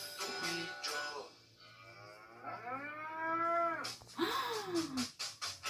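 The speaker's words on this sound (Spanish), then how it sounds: "Dime si tú sabes cómo hace la vaca." A cow moos twice with long, drawn-out lowing calls, fairly close and clear, separated by a short pause and with some light background noise.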